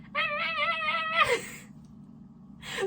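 A person's voice imitates a scream from a half-remembered song, a wavering, high, wailing cry held for over a second and then dropping away, followed by quiet and a brief breathy noise at the end.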